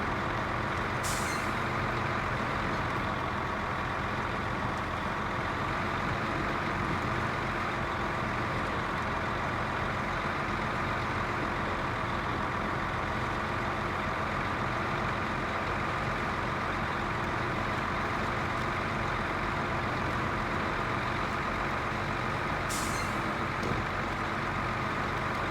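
A truck driving between cliffs, its engine a steady loud drone throughout, with a faint hiss near the start and again near the end.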